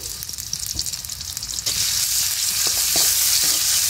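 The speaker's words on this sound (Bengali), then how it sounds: "এখন আমি তেলানিটা করে নেব। এখানে আমি রসুন কুচি আর পেঁয়াজ কুচি দিয়েছি" Chopped garlic and onion sizzle in hot oil for tempering a gourd-leaf dish, opening with crackling spatters and then settling into a loud, even frying hiss with occasional utensil taps.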